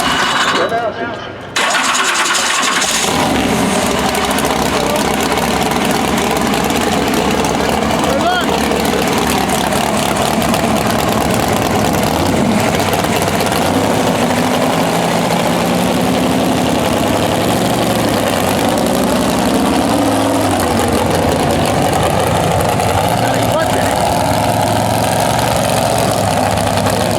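A tractor engine at a county fair tractor pull starts and then runs on in a steady, low, throaty idle for a long stretch, loud and close, with people talking over it at times.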